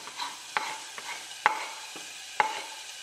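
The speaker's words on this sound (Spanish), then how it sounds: "como ya está caliente, nuestra ollita. Vamos a añadir nuestra cebolla." Chopped onion hits a hot pot for canned beans with bacon, giving a soft steady sizzle broken by a few sharp spoon scrapes and clinks as it is stirred.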